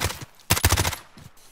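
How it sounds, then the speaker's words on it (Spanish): Gunfire in the video game Warzone comes as several loud, rapid bursts of shots with short gaps between them, close and punchy, with no talking. "Estoy disparando a lo loco porque no puedo llegar."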